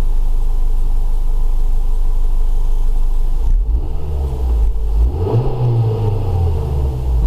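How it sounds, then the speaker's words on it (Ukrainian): A Geely Emgrand EC7 running on LPG fills the clip with a steady engine drone that shifts as the revs rise, a deep continuous rumble close up with no voices over it. "Зараз авто працює"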